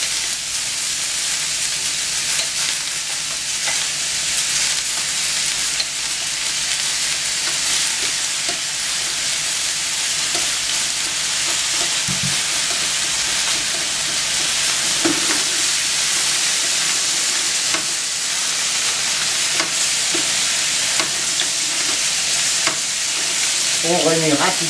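Mussels with their garnish sizzle loudly and steadily on a hot griddle plate, with a constant hiss and spatter and occasional scrapes from quick stirring, close and without talk.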